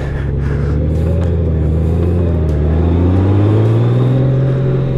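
A 2019 Honda Goldwing DCT motorcycle on a first test ride, its engine a loud, steady low rumble that rises slightly in pitch as it accelerates, with wind noise over it.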